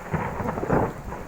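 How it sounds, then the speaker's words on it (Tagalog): Low thunder rumbles briefly during an outdoor rain shower, a soft, muffled roll with a faint patter underneath and no voices. "Kumukulog na!"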